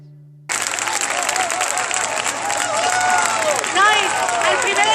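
Audience applause bursts out after a flash mob for the International Day of Persons with Disabilities, sudden dense clapping with cheers and shouts that holds strong to the end.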